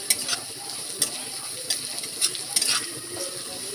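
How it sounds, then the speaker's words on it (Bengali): Ginger frying lightly in oil for chicken lahori, a close steady sizzle punctuated by several sharp stirring clicks and scrapes, no talking. "দিয়ে একটু আদাটা ভেজে নেব হালকা"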